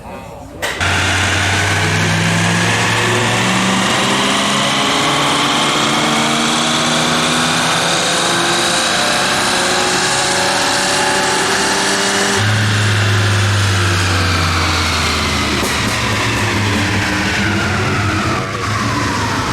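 A 1985 Ford Mustang GT with CFI injection and an automatic transmission, running with modifications, roars loudly on a dyno through two long rising pulls with a brief drop between them. It is close and constant, and voices can be heard under the engine.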